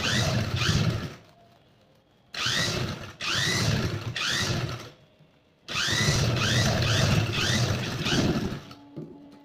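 A sewing machine stitches a zip onto a fishcut mermaid gown in bursts of rapid, rhythmic needle chatter, three runs separated by short pauses, close and steady with no talk.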